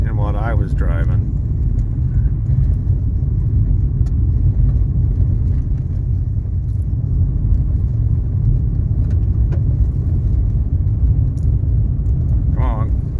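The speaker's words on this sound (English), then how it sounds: "I didn't feel all these bumps and hear all this road noise" Steady, loud low rumble of road noise fills the cabin of a 1986 Cadillac Cimarron while it is driven, with faint thumps from bumps and brief bits of voice at the start and end.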